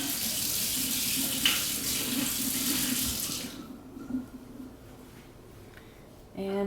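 Tap water runs steadily into a sink, rinsing orchid roots during repotting. The stream flows for about three seconds, then shuts off, leaving faint drips and handling noises.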